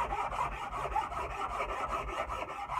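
A Nicholson file rasps along a wooden axe handle in steady, even back-and-forth strokes, close and moderately loud with a continuous gritty scrape and no talking.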